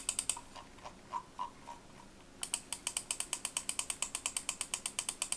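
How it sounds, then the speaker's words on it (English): Scroll wheel of an ATK X1 SE budget mouse clicking: a few scattered notches, then a fast, even run of crisp light ticks close to the mic, with no voices. "The scroll wheel is great. It's a light, but light just enough so you can still feel the steps properly."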